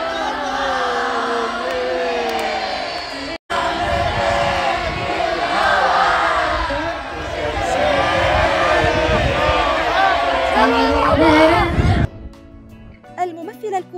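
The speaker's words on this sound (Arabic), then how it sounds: "اشتعل حماس الجمهور، فراحوا يصفقون لها ويهتفون" A concert audience in Kuwait cheers, shouts and applauds for a singer, a dense, loud roar of voices that carries on almost without pause before cutting off abruptly near the end.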